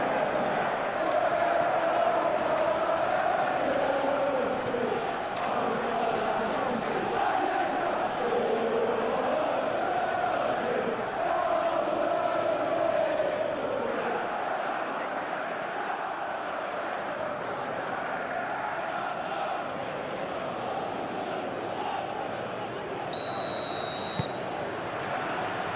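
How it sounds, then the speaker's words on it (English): A capacity stadium crowd in the football game eFootball PES 2021 gives a continuous roar with swelling chants, while a commentator talks over it throughout. "A capacity crowd here."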